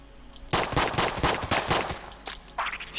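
Rapid gunfire in the video game Enter the Gungeon, a quick string of about eight sharp shots followed by two more isolated bursts, loud and close with no talking.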